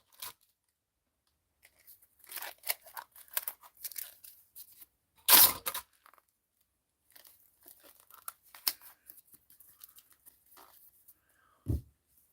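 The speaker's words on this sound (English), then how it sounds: "Okay, so we're going to tape this up." Packing tape goes onto a shipping package in quiet, irregular bursts of sticky tearing and crinkling, with one sharp loud rip partway through, short pauses between strips, and no voices.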